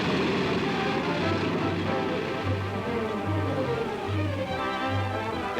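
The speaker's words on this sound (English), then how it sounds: "Out of the air and onto the road comes the flying automobile." A propeller-driven flying automobile drones steadily in flight, its aircraft engine giving a continuous loud hum with a gently pulsing low tone throughout.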